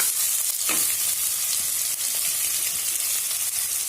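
Two finely chopped onions hiss and sizzle steadily as they hit hot oil in a pan for Dhaba-style egg bhurji, an even, close crackle with a brief stir near the start and no talking.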